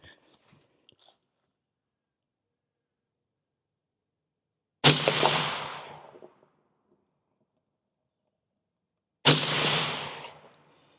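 Two sharp rifle shots fired at a 100-yard target, several seconds apart, each a single loud crack followed by a ringing, decaying tail in otherwise quiet surroundings.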